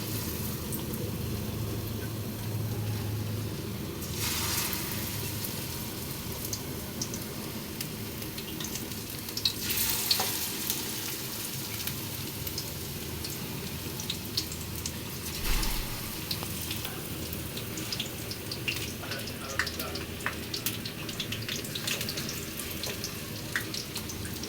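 Pumpkin flower fritters sizzle in hot oil in a home kitchen, a continuous close crackling fry with occasional louder spits and bursts of bubbling as pieces go in.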